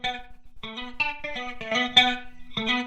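Clean electric guitar through a simulated amp and cabinet plays short funky disco house chord stabs and notes, bright and close with a slight effect shimmer, no voices.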